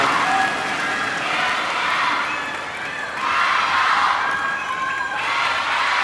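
Crowd at a 2019 China Open table tennis quarterfinal between Ding Ning and Ito Mima cheering and applauding loudly and continuously, swelling into a bigger roar partway through.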